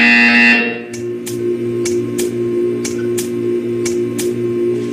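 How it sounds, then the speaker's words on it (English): In the game Portal 2, a sustained electronic tone cuts off, then a buzzer sounds in short, evenly spaced pulses, about eight beats in steady rhythm. "You will hear a buzzer."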